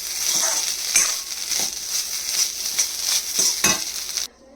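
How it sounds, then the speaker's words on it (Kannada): Ingredients for jeera rice frying in a pan, with a bright, steady sizzle up close and periodic scrapes and clinks of a spoon stirring, then an abrupt stop. "ಚೆನ್ನಾಗಿ ಫ್ರೈ ಮಾಡ್ಕೋಬೇಕು."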